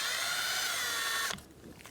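A power tool spins a T30 Torx socket to back out a bolt on a Dodge Grand Caravan valve cover, a close whirring buzz that holds steady for over a second and then cuts off abruptly.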